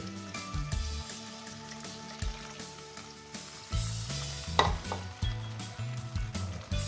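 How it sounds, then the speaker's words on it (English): Onion and garlic sizzle steadily in a pan while a cornflour slurry is poured in, with bursts of stirring and pan clatter over a constant frying hiss, no talking. "Now our onion and garlic is also ready, so we'll add our slurry."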